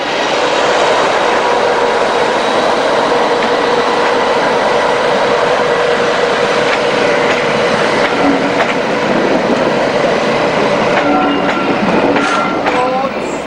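Class 31 diesel locomotive 31459 pushes a charter train from the rear, a loud, continuous engine roar and rolling rumble with squeals and clanks toward the end.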